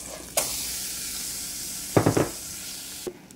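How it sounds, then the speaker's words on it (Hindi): Rice with cashews and raisins sizzling in a hot pan on a home stove, a steady close hiss broken by a few short scraping stirs of a spoon against the pan. "मैं इसको फ्राई कर रही हूँ थोड़ा सा दो से तीन मिनट"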